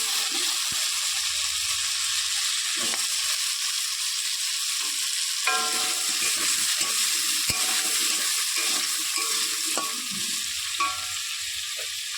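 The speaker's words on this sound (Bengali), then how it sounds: "এবার আলুগুলো ভেজে নেব" Potatoes fry in hot oil in a home kitchen pan, a steady, moderately loud sizzle with occasional stirring clinks and scrapes throughout.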